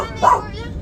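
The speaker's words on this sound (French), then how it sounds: "Oh, il y a tes chiens." A dog at a shelter gives a short yip or bark amid background noise and nearby voices.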